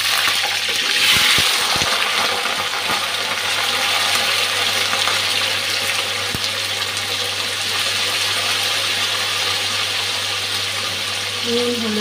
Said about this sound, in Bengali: এখন তেলটা গরম হয়ে গেছে, আলুটা ভেজে নিচ্ছি।